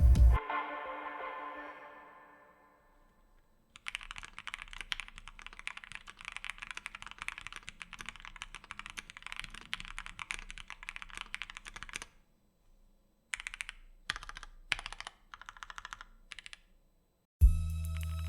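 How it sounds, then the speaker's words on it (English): Mechanical keyboard fitted with Gateron Oil King switches, typed on in a steady run of soft, creamy keystrokes for several seconds, then a few short bursts after a pause, close and alone without talk. "Actuating the keystrokes are the Gateron Oil King switches, which all comes together to give this keyboard this creamy sound profile."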